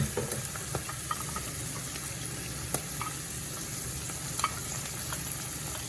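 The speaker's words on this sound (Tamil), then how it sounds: "இப்போ வந்து வெங்காயத்தை போடுவோம்" Sliced onions fry in plentiful hot oil with a constant dense sizzle, dotted with occasional sharp pops and light ladle clicks throughout.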